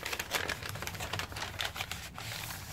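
Paper being unwrapped from a last parcel, dense crinkling and tearing rustle with sharp crackles throughout, fairly close and continuous, no talking.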